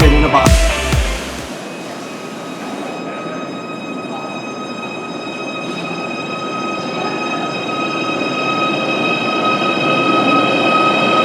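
Merseyrail Class 777 electric train running, heard from on board: a brief loud clatter at the start, then a steady rumbling roll with a faint high electrical whine holding throughout.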